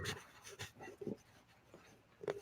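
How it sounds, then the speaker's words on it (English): A dog pants close by in short, uneven bursts of breathy huffs with brief pauses between them, and no voices are heard. "Is that your dog?"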